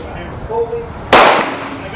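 A single loud rifle shot from a Mosin Nagant M91/30 at an outdoor gun range, a sharp close blast with a short decaying tail, following a brief moment of quiet talk.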